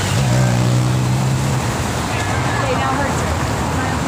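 Dense road traffic circles the Arc de Triomphe in Paris, France, a steady loud wash of car engines and roadway noise with a passing vehicle's engine note rising briefly, while a voice speaks over it.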